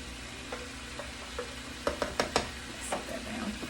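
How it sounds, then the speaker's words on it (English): Meat and vegetables cook in a pan for an enchilada casserole, a soft continuous sizzle broken by several sharp clicks and scrapes of a utensil stirring, with no voice. "Okay guys, I've got my meat and vegetables cooking."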